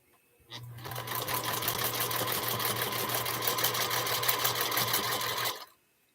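A sewing machine runs steadily for about five seconds, a dense rapid stitching whir with a low hum, starting and stopping cleanly.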